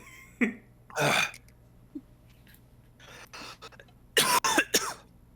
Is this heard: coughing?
yes